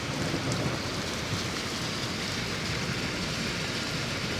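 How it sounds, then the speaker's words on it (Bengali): Heavy rain pours down at night in Saudi Arabia, a dense, unbroken roar of drops close by that stays loud and even throughout, with no speech. "অনেক বৃষ্টি হয়েছে বৃষ্টি হইলে অনেক ভালো লাগে ঠান্ডা থাকে দিনগুলা"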